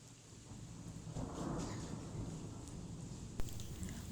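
Steady rain falls outdoors around 8 p.m., a dense, even hiss with a low rumble underneath and a single sharp knock near the end, with no voices.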